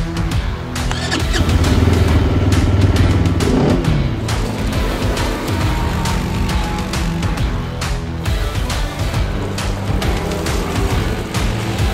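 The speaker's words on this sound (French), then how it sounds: "Je vous propose de découvrir ce quad en action immédiatement." A Loncin XWOLF 300 quad runs close by, its engine droning steadily with revving swells and an early throttle surge over rough outdoor ground.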